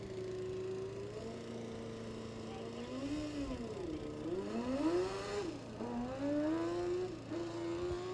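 Formula SAE race car launching off the line in an acceleration event, its engine note climbing and dipping through several gear-like pitch sweeps, moderately distant and continuous with no talk.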